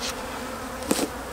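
Honey bees on an open hive give a steady close buzzing drone, with one brief louder buzz as a bee passes near.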